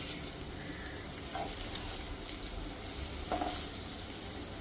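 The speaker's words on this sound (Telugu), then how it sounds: "కొంచెం లైట్గా 4 పక్కల అలా కలిపేసి కొంచెంసేపు ఉంచుతాను" Ivy gourd curry with curry leaves and coriander powder fries in a pan under a steady low sizzle, while a spoon stirs it lightly with two faint scrapes.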